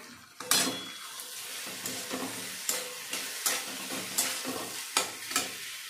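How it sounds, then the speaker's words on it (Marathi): Vegetables including capsicum, raw peanuts and potato sautéed in hot oil in a pan, with a steady sizzle broken by repeated sharp scrapes and clinks of a spoon stirring against the pan, close and alone without talk. "तेलात छान परतून घ्यायच्या आहेत भाज्या।"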